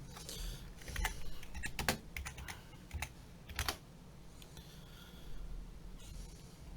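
Fingers tapping a computer keyboard at close range, quick irregular clusters of key clicks with short gaps, quiet and alone without voices.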